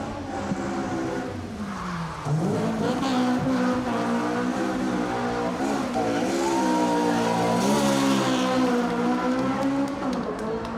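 A rally car runs an asphalt special stage at Rally Ceredigion, its engine note rising and falling through gear changes in a steady, loud run lasting several seconds.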